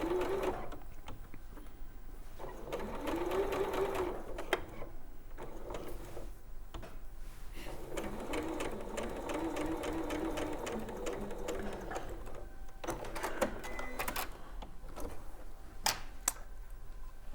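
A sewing machine stitches a quilt block in short runs, starting and stopping again and again as the fabric is eased round the edges, its motor whirring steadily between brief pauses.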